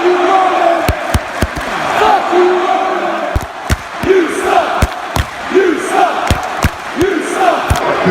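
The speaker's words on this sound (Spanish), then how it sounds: "Roman tuvo que quedarse parado en el centro del ring durante 10 minutos bajo un abucheo ensordecedor." Wrestling arena crowd on Raw loudly booing a wrestler standing in the ring, a dense roar swelling and falling, with sharp loud slams or bangs punctuating it repeatedly.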